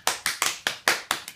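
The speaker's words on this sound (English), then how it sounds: "Clap hands." Hands clap in a quick, uneven run of about seven loud, sharp claps at a 70th birthday party right after the birthday song, with no other sound between the claps.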